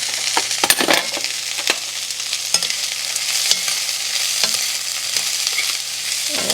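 One clove of garlic and an onion sauté in a pan with a steady close sizzle, punctuated by scattered clinks and scrapes of a stirring utensil; no one speaks.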